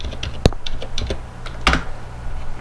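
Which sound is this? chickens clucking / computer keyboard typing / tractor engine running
computer keyboard typing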